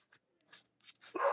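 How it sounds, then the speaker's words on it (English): A dog reacting to a visitor at the front door gives scattered short barks and yips, faint and intermittent, with a louder burst at the end. "now my dog's going crazy"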